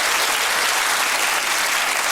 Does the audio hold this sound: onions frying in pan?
no